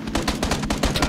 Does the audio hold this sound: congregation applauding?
no